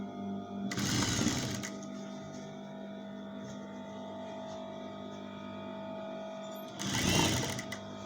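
A sewing machine stitches the side seam of a skirt in two short bursts separated by a quieter pause with a low motor hum, close and clear.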